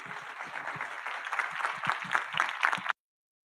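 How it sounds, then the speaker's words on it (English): Moderate applause from a meetup audience greeting an agile-methods speaker, clapping building slightly in intensity before cutting off abruptly into silence. "Big applause for him."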